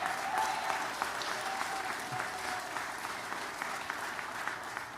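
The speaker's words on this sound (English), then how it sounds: "We need to clap harder for that" A crowd applauds at a campaign rally for Lt. Gov. Mandela Barnes's Senate run announcement, a sustained, fairly faint spread of clapping with scattered louder claps and a faint tone threading through early on.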